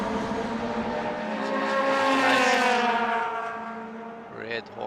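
Red Honda Integra Type R touring car racing for second place in a Baltic Touring Car Championship race, its engine rising and falling loudly as it passes close by, with commentary over it.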